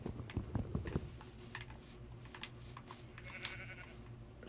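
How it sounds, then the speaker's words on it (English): A sheep bleats in the Minecraft video game, a brief faint bleat among light keyboard-like clicking and quiet background game sounds. "Seeing that sheep over there"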